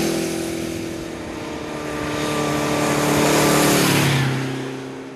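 A 4-cylinder supermoto motorcycle engine revs smoothly, its tone swelling louder and higher over a few seconds and then falling away, heard alone with no talking.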